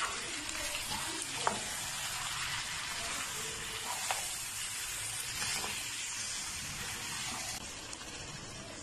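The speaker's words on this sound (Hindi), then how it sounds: "इसको अच्छी तरह मिक्स कर लेंगे" Mutton with masala and yogurt being stirred in a pan for karahi, a steady faint sizzle with soft scraping strokes running throughout, nobody speaking.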